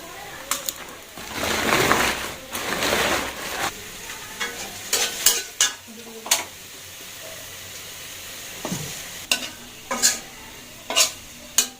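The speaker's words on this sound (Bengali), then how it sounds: "বেরেস্তার জন্য পেঁয়াজগুলো ভাজি হয়ে গেছে, নামিয়ে ফেলতেছি" Onions frying for a biryani garnish, with loud sizzling and the repeated scrape and clatter of a spatula stirring in the pan, up close and without talk, followed by sharper clinks near the end.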